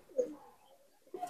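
Malwai pigeon, a pure Dhanyabad type, giving a soft low coo near the start and another brief coo at the end, faint and close with quiet gaps between.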